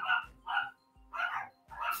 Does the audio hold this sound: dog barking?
yes